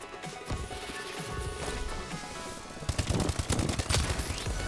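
Rapid bursts of gunfire from a shooter video game, with a steady layer of background game noise that turns into a denser run of sharp, loud shots in the second half.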